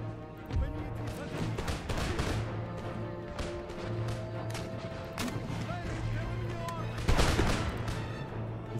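A musket regiment fires volleys in Empire Total War: dense, crackling bursts of massed shots erupt several times over a continuous battlefield rumble, the last volley loudest.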